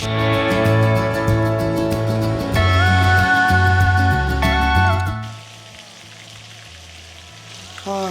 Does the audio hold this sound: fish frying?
yes